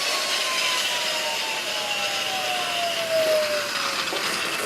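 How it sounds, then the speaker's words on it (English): Wire brush on an angle grinder deburring metal fence hardware, a steady broadband whirring scrape held for several seconds with a slowly falling tone, close and fairly loud, no talk. "Taking off the burrs."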